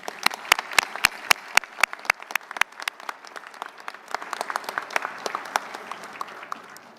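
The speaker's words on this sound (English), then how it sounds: "Please join me in a round of applause." At a luncheon keynote, an audience claps after a naval petty officer is introduced, beginning with a few sharp, evenly spaced individual claps that swell into a fuller, denser round of applause.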